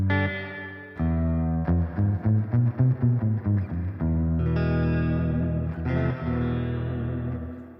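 Electric guitar notes and chords ring through a Boss Katana 100 amplifier, each one trailing a splashy, drippy spring reverb tail.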